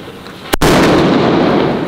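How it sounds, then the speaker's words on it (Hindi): A Diwali sutli firecracker bomb goes off with one sharp, loud close blast, then a long, dense rumbling hiss of debris and crackle that fills the rest of the moment, with no voices. "ये आया क्लासिक वाला, ये ऐसा बम जो है मर्करी वाला।"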